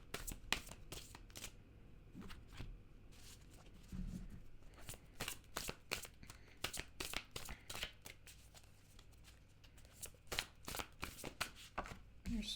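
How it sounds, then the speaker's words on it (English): Tarot cards are shuffled by hand before a reading, producing repeated rapid riffling and flicking bursts in an uneven rhythm, close and soft, with brief quiet speech in between. "I'll pull 3 more cards."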